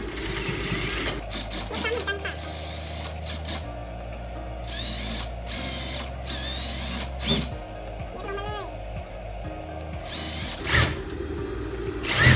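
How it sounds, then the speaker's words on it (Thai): A sewing machine runs in short bursts, stitching and reinforcing a seam on a shirt. Its whirring rattle alternates with brief pauses, and a voice talks between and over the runs. "ทำการเย็บซ้ำเย็บตะเข็บซ้ำให้มันเป็นได้สีแดง"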